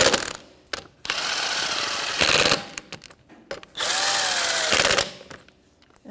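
Close bursts of a power tool snugging the rear shock mount bolts on a 2011-2021 Jeep Grand Cherokee, one after another in a crisscross pattern, the drill whining loud in separate runs with short quiet gaps between them.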